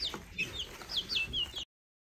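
Young chickens kept indoors in a playpen in a guest bedroom give soft clucks and short high chirps, close by, for about a second and a half.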